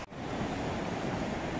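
Atlantic Ocean surf breaking on the shore at Agadir, Morocco, a steady broadband wash of waves with some wind noise and no one speaking.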